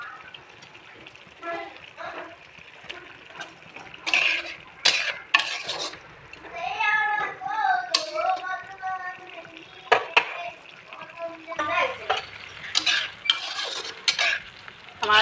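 Boiled eggs tumble into a pan of egg chochchori and are stirred, with scraping and clattering of a spatula against the pan, bursts of utensil knocks, and a voice talking over parts of it.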